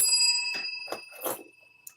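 A hand bell rung in short bursts, about four bright rings spaced unevenly over two seconds, close and fairly quiet, with a faint ring at the end.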